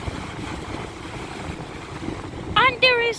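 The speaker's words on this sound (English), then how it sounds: "Yes, there were some really big waves coming in." Big sea waves surging at Porthcawl with strong wind buffeting the microphone, a loud continuous rushing roar, then a voice breaks in near the end.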